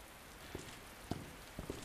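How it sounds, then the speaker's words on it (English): Rain effects in the video game Resident Evil 2 Remake, a soft steady patter on a rooftop with a few louder drip-like taps standing out over a quiet, even hiss. "Got to love those rain effects though."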